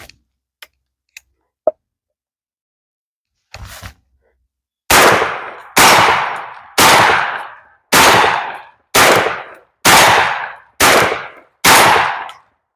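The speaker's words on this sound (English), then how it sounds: "I'm just going to shoot this steel target for a little bit." Stoeger M3000 semi-automatic shotgun fired at a steel target about 15 yards away: a few faint clicks, then eight loud, sharp blasts in a steady, evenly spaced rhythm, each with a short ringing tail.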